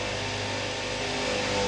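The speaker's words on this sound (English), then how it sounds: "tell your husband to stop mowing while we're trying to record this shit" A lawn mower engine hums continuously in the distance, a steady unbroken drone with no voices over it, swelling slightly toward the end.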